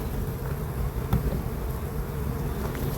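Honeybees drone steadily at an open hive during an inspection for a new queen. The buzzing is close and continuous, with a brief louder pass as a bee comes near.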